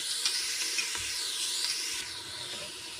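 Onions and tomatoes sauté in an Instant Pot for veg pulao, giving a steady close sizzle and hiss with a few soft stirring scrapes and a brief low knock partway through; no one speaks.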